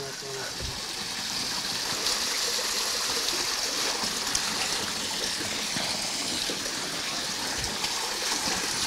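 Spring water flowing steadily at a village spring, a continuous close rushing and trickling wash that holds an even level throughout.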